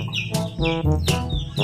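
Small chickens cluck in short repeated bursts close by, with brief higher chirpy calls between them.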